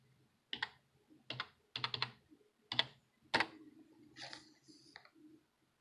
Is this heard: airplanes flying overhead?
no